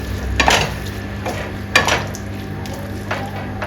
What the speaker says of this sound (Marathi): उकडलेले छोले मसाल्यात मिक्स करून घेऊया